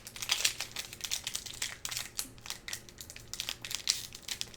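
The foil wrapper of a 24-year-old Magic: The Gathering Mercadian Masques booster pack crinkles and tears close by, a busy run of crisp rustles and crackles with no talk.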